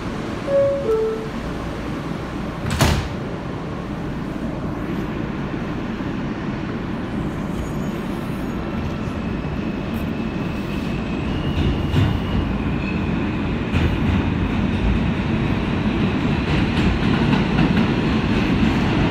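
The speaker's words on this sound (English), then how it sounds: "This is a Queensbound W local train." A 2008 Kawasaki R160B New York subway W local train runs along the track, a steady close rumble with clickety-clack and faint wheel squeal, plus a sharp clank early on.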